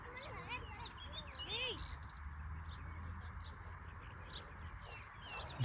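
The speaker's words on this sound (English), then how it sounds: "But you can listen the birds." Birds chirp and call in a quiet morning setting near Ooty in the Nilgiri hills, scattered tweets over a low background murmur of distant people.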